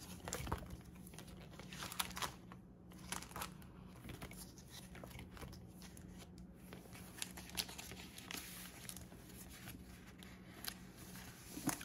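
A sheet of planner stickers is handled close up, faint crinkling and rustling with scattered soft clicks and taps, quiet and intermittent.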